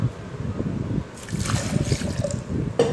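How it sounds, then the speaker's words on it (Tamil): A little water poured into freshly ground mint juice, a soft close trickle and light splashing in a bowl with gentle liquid gurgles that continue through the short clip. "அதில் வந்து கொஞ்சமாக தண்ணி கலந்துக்கலாம்"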